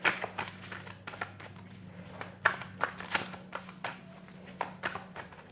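Tarot cards being shuffled by hand, close and clear: a quick series of soft papery riffles and flicks in an uneven rhythm, against a faint steady hum.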